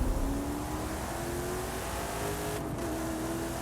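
Lamborghini Centenario engine in a racing video game, a steady loud drone with rising rev tones sustained throughout, no talk.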